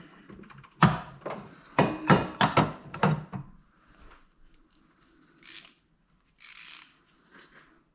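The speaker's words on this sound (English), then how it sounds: "Not the best ratchet I got, but hopefully it'll work." A ratchet wrench works under the dashboard of a 1996 Ford Ranger, with a quick run of sharp metallic clicks up close, then a pause and a few scattered softer clicks and scrapes.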